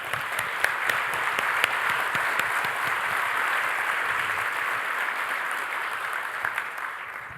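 Conference audience applauding a panelist at a nuclear reactor development event, an even wash of many hands clapping in a large hall, sustained and moderately loud.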